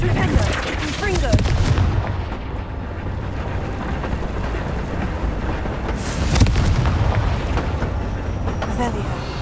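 Spell blasts and rumbling explosions from Hogwarts Legacy gameplay, loud booms rising around the start and again near the middle over a dense, continuous game soundscape.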